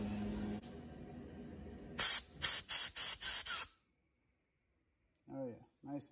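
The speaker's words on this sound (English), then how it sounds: "I'm going to hit these jets now with some compressed air." Compressed air blasts through the jets of a cleaned Eton / GY6 scooter carburetor in five short, loud, close hissing bursts, with quiet murmuring before and brief voices afterward.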